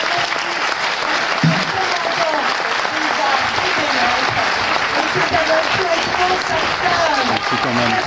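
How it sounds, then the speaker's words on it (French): An audience applauds Donald Sutherland at a Paris master class, sustained and dense throughout, with crowd murmur beneath the clapping. "je vous demande vraiment d'applaudir Donald Sutherland"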